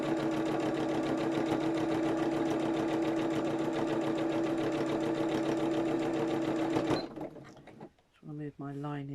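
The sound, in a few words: sewing machine top stitching a zipped top bag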